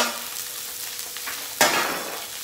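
Fish fries in a pan toward a crispy, brown finish, giving a steady close sizzle that swells into a sharper, louder hiss partway through, with no voices.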